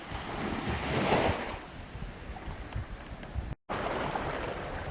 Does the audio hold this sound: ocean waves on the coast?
yes